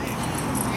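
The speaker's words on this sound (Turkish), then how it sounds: "Acayip her köpekten var burada ha." A dog at a dog park gives a short whimpering yip, close and under background noise, with a voice in the mix.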